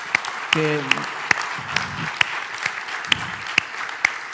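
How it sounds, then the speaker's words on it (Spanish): A roundtable audience applauds at a session on Douro winegrowers, scattered clapping with a few sharp individual claps standing out, while a voice speaks briefly over it. "Yo pediría un aplauso para Juan Manuel Belver"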